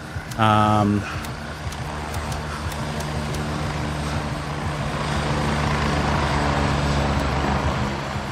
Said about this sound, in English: that's the first enemy chopper we've heard.